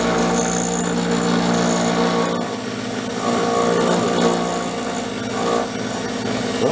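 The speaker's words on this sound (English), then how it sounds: "You see that I'm making a nice milling cut, side milling." A Grizzly micro lathe takes a side milling cut with its table locked, giving a steady, close, continuous grinding and rubbing hum with slight swells.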